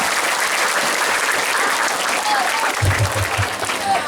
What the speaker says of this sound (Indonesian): Tepuk tangan kalau seperti itu ya